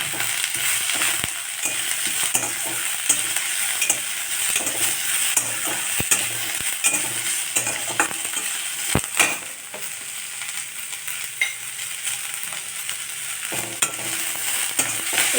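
Tomato, beetroot and carrot pieces sautéing in a pan for tomato soup: continuous sizzle with frequent spatula scrapes and sharp clicks against the pan, steady and close, with no talking.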